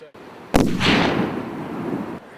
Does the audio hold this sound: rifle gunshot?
yes